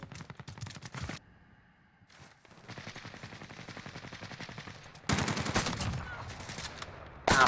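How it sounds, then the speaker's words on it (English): Rapid bursts of gunfire in the video game Call of Duty Warzone come in loud, sharp clusters with short pauses between them, including a sudden heavy volley near the end. "Those were some yummy shots"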